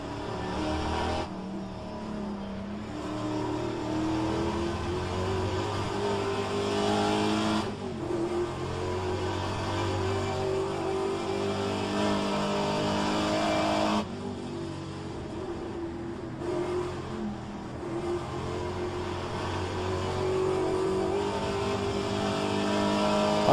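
A sports car in a racing game mod lapping Mont Tremblant: a sustained loud engine drone that rises through the revs, with abrupt drops at gear shifts, steady and close without speech.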